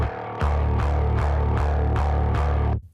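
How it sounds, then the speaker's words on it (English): Two layered electric basses played through a DBX 160A compressor with heavy distortion and cabinet simulation thump out six evenly spaced, sustained low notes in a steady rhythm, loud and dense, then cut off abruptly. "I recorded 2 instances of electric bass through the DBX160A, panned them slightly left-right, lots of distortion and cabinet"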